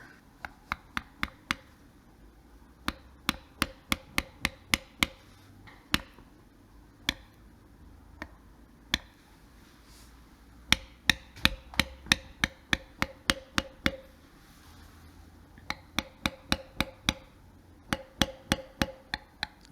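A mallet strikes a number 2 beveler while a floral pattern is carved into a leather belt: sharp, close, dry taps in quick rhythmic runs separated by short pauses.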